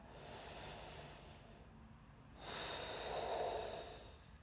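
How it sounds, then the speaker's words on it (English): Slow ujjayi breathing during a yoga stretch, a soft, throaty, ocean-like rush of air close to the microphone, with one drawn-out breath followed by a fuller, louder one. "Ujjayi breath"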